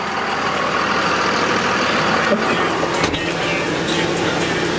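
A 2001 Dodge Ram 2500 Sport 4x4 diesel pickup with an Edge programmer runs on a test drive, its engine a loud, steady drone with road noise heard from inside the cab.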